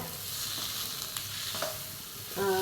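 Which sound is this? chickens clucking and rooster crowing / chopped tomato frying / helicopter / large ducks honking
chopped tomato frying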